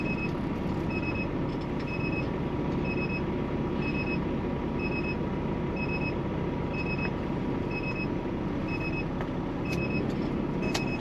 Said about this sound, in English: Sounds like an alarm going off.